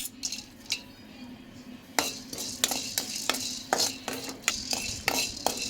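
Whole garam masala and peppercorns dry-roast in an empty pan, with repeated sharp clinks and scrapes of a utensil against metal over a quiet background hiss.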